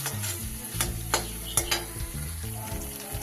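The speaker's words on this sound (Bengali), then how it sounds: "খুব ভালো করে কষিয়ে নেব।" Spice masala sautéing in oil for a vegetarian dhokar dalna: a constant close sizzle with repeated stirring scrapes and clinks of a utensil against the pan.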